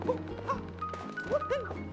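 A dog in Super Mario Odyssey gives a few short, yippy barks in quick succession, with a soft in-game musical tone under them, moderately loud against the game's ambience.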